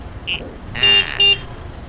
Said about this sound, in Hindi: इतना हॉर्न क्यों बजा रहा है वो भाई?